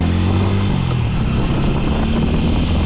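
A motorcycle engine in sport mode on a long highway ride from Nevşehir to Bodrum, a steady loud drone mixed with heavy wind rush, with the engine pitch shifting slightly early on and no talk.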